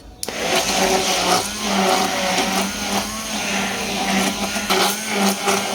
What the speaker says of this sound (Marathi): आता याला आपण ब्लेंडरच्या साहाय्याने आपण याला असं छान फेटून घेतो आहोत